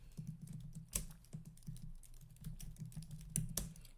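Rapid, uneven keystrokes on a computer keyboard clatter close by for several seconds with no talking, a few sharper key hits standing out.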